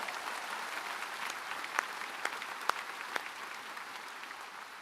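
Congregation applauding inside a church during a Sunday afternoon worship service: a steady, fairly distant wash of many hands clapping, with a few sharper individual claps standing out near the middle.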